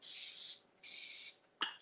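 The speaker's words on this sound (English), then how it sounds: "If you're using metal, we're gonna use the release spray." Release spray hissing from an aerosol can into a metal baking pan: two steady sprays of about half a second each, close and fairly loud, then a short sharp clatter at the end.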